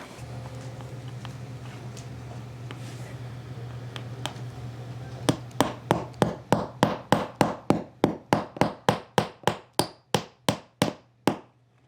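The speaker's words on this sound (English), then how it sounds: "I almost hit you with the hammer" A hammer drives nails into wood, anchoring to crown molding, at a quick, even pace, about twenty sharp close blows, over a steady low hum with a few scattered knocks before.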